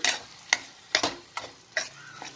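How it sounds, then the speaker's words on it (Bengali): Soaked spice paste is stirred in a pan, five evenly spaced scraping spoon strokes with sharp clicks over a faint soft sizzle, close and with no talking. "তো মশলাটাকেও ভালো করে নাড়াচাড়া করতে হবে।"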